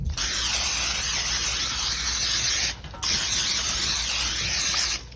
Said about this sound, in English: And then I got a little spray for the metal pan.